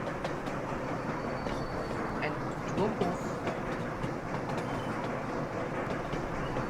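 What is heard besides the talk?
train passing in a video game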